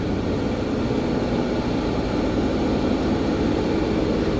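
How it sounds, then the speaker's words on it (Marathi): A ropeway cable car at Saptashrungi Gad hauls uphill with a loud, steady mechanical drone that stays even and unbroken throughout. "ही रोपवेची ट्रेन आहे जी आता वरपर्यंत जाणार"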